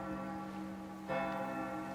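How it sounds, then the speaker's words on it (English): A bell in a multiplayer shooter video game rings out as it is struck by gunfire, a sustained metallic tone with a fresh strike about midway that swells the ringing, heard alone without talk. "Who's shooting the bell?"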